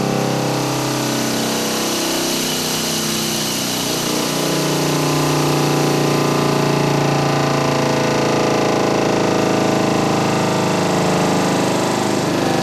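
A SuperKart racing kart undergoes a sine sweep vibration test, giving a loud, steady engine-like drone whose pitch rises gradually, with overtones shifting through the sweep, and no talk.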